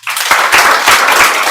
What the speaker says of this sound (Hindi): इसके लिए ताली बजा दीजिए